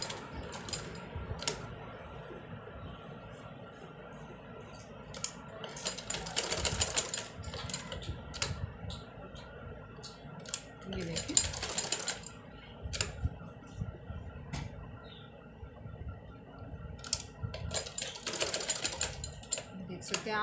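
Sewing machine stitching fabric for a shirt, with short clattering mechanical bursts of needle and gears separated by pauses, close and fairly clear, while someone talks throughout.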